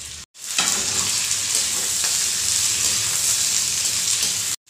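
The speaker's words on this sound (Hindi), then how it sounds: "तेल जब अच्छी तरीके से गर्म हो जाए तब डालेंगे इसमें लोबिया और इसे फ्राई कर लेंगे" Cowpeas (lobia) sizzle in two tablespoons of hot mustard oil in a pan. A loud, bright, steady frying hiss starts after a brief silent gap and runs evenly until it cuts off at the end.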